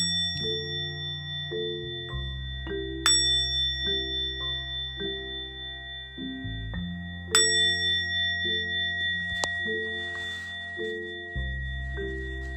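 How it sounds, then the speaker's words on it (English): Deep, resonant meditation bell tones ring out repeatedly, each strike sustaining and overlapping the last as bright overtones shimmer and slowly fade in a quiet room. "we'll do the usual bell here."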